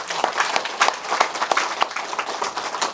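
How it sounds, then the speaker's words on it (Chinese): A lecture audience claps for a group of trainees, with loose, uneven hand claps and some distinct individual smacks standing out in an irregular rhythm, fairly close and moderate in volume. "大家为我们黄埔17期学员鼓掌"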